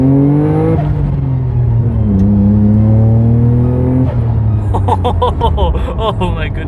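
A stock Nissan Skyline R34 GT-R with a 2.6-liter twin-turbo inline six revs hard up close, the engine note climbing and falling in several loud sweeps, then a burst of voices and laughter over the idling car.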